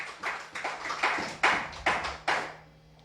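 A church congregation gives the Lord a strong round of applause during a sermon, with loud rhythmic hand claps landing in roughly even beats, about seven sharp bursts in a row, close and clear.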